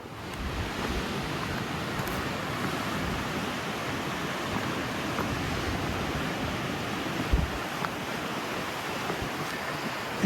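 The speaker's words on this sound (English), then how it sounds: "Heavy duty wind up here, off and on gusts." Gusty wind on a tree-lined mountain trail roars steadily as a loud, broadband rush that swells and eases slightly over ten seconds, with no voices.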